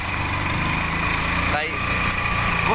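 A motorcycle engine idling steadily while being parked, a continuous close low rumble with a brief dip partway through as someone speaks over it.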